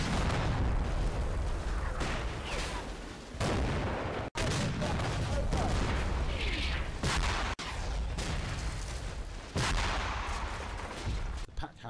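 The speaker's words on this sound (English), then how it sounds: "The pack howitzers join in on the act." Pack howitzer volleys and surrounding gunfire in Combat Mission Battle for Normandy, repeated loud booms and crackling fire in dense bursts with short gaps between salvos.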